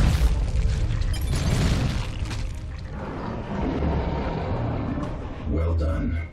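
A deep, rumbling explosion as an enemy structure is destroyed in the real-time strategy video game Dawn of War 2, a broad sustained roar under battle noise with a voice announcing over it.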